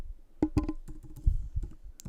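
Numbers are typed on a computer keyboard, a short run of sharp clicky keystrokes tapped close by in an uneven rhythm, each press distinct and fairly quiet, with no talking.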